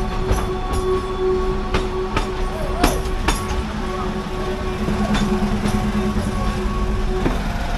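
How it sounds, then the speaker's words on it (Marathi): Bilimora-Waghai heritage narrow gauge train running slowly, with a steady rolling rumble, tonal wheel squeals and a series of sharp rail-joint clicks, close and moderately loud, with people talking faintly inside. "आता स्लो झाली आहे ट्रेन."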